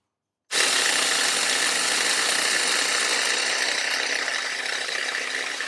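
Nitro RC car engine running to draw fuel through its line, starting abruptly after a brief silence and then holding a loud, steady, high-pitched buzzing whine throughout.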